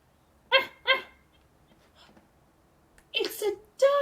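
Two sharp dog barks close by, followed after a pause by a few more yelps and whines, alone with no talk over them.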